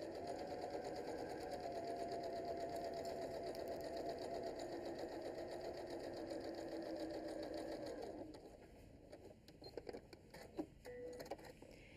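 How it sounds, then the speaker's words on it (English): A sewing machine runs a steady straight seam on tote bag fabric, a close, even whirring rattle for about eight seconds before it stops, leaving faint clicks and handling of the fabric. "continue sewing a straight line all the way down to the end."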